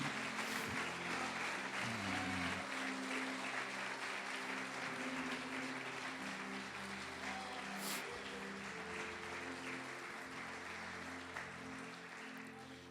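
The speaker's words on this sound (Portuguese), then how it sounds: "Pode aplaudir o Senhor e glorificar" Members of a church congregation applaud during a sermon, a soft, continuous patter of many hands heard from a distance, with faint sustained tones in the background.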